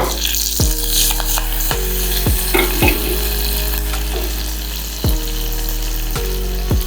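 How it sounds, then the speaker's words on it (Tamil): Cashew nuts fry in hot oil or ghee for ven pongal, a steady close sizzle with a low hum and periodic clicks from stirring. "இந்த கேஷ்யூ நட்டையும் இதில் போட்டுட்டேன்"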